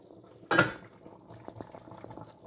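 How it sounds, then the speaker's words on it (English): A pot of shop-bought meatballs in sauce simmers on low heat, with a loud lid or pot clatter at the start followed by soft, scattered bubbling pops. "You can see it bubbling away."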